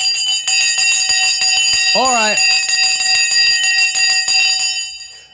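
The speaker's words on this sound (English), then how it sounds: "The bell has now gone, and we are now into overtime." A stock market closing bell rings continuously, a loud sustained metallic clanging with ringing overtones, as someone speaks briefly over it partway through before the ringing fades out at the end.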